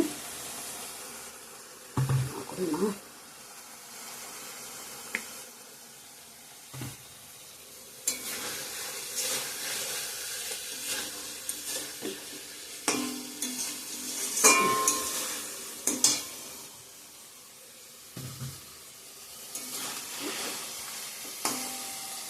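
Pointed gourd cooked with mustard in a little oil sizzles steadily in a pan, with occasional stirring scrapes and clatters over a continuous close frying hiss.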